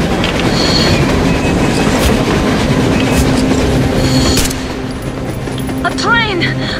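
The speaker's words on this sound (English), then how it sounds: "A train! A damn train on the surface!" A train arrives on the surface in the post-apocalyptic shooter Metro Exodus, with a loud, rumbling clatter of wheels and sharp metallic bangs that fade into quieter ambience. People talk over it.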